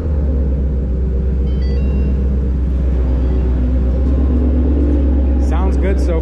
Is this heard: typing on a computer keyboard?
no